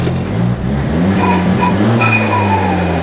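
A Ford Festiva fitted with an EcoBoost engine idles and revs steadily nearby, a loud, continuous low rumble with slight rises in pitch and no voices.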